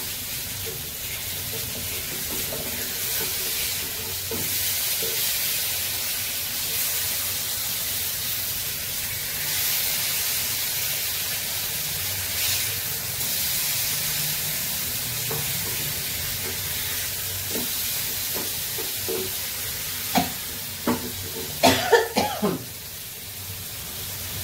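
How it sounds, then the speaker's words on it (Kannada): Tempering spices (oggarane) sizzling in hot oil give a loud, steady frying hiss throughout, with stirring scrapes and a few sharp coughs near the end. "ಒಗ್ಗರಣೆ ದಿಯೇನು"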